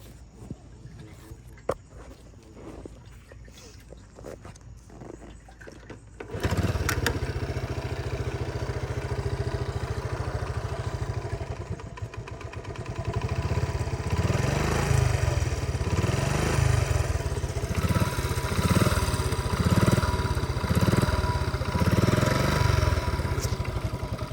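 A 1981 Honda Z50 mini bike, with a stock carburetor and trouble idling, kicks over and starts, then runs with a steady close-up buzzing putter that rises into revving pulses, after quiet footsteps and handling.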